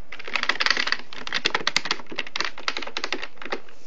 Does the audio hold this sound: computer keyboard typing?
yes